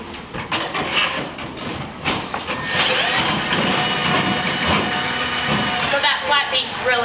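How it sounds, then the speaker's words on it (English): A Milwaukee M12 drain snake auger runs with a steady whirring motor and a rattling cable. Someone talks over it throughout. "is the simple improvements I showed you on the M12 Drain Snake"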